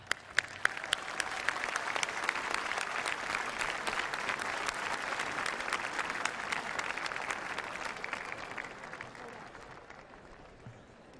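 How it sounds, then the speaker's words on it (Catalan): A large outdoor audience at a havaneres singing festival in Calella de Palafrugell applauds warmly to welcome a Menorcan vocal trio, dense steady clapping sustained for about ten seconds before gradually thinning out. "rebem amb un fort aplaudiment el Beni, l'Amador i el Quico"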